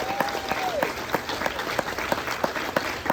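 Audience applause at a Hispanic Heritage luncheon, a dense, even burst of many hands clapping indoors, close and steady throughout, with a brief tone at the start.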